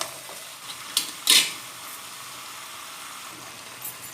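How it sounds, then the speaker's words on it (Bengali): Chicken masala and potatoes frying in a pan give a low, steady sizzle, with two or three sharp clinks of a utensil against the pan as they are stirred. "এতে আলুগুলোও দিয়ে দিলাম, দিয়ে একসঙ্গে"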